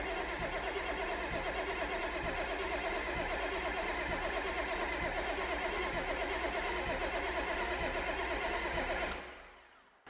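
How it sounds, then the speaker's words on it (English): A diesel engine with fuel leaking everywhere is cranked over, a loud, steady, rumbling churn that runs continuously for about nine seconds before cutting off abruptly into near silence. "I may crank it over again and see where else it leaks from."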